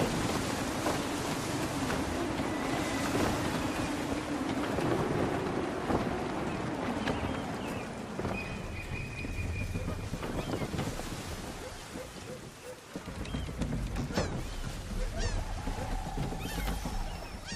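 A sailing ship in Assassin's Creed 3 pushes through open sea, with a steady roar of wind and waves throughout and the hull rushing through water, while voices call out orders over the noise.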